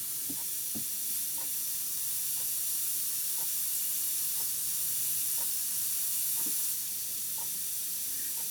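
An airbrush sprays a yellow and carmine water-based paint mix, producing a steady, close hiss of air and paint that runs almost unbroken, with faint ticks scattered through it.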